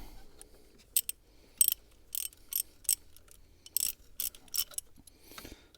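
A ratchet loosens bolts running into the cylinder head of a Citroen DS4 Sport 2.0 HDi engine, clicking in short, crisp bursts of rapid ticks with quiet gaps between, close and fairly faint.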